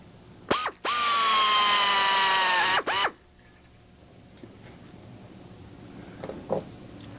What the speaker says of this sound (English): Now we can go ahead and drill these holes here